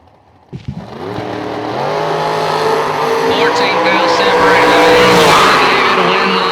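At a bracket drag race, cars from the 07 race tech and 07 undercover lanes fire up and roar off the line, a loud sustained engine blare rising in pitch, with an announcer talking over it.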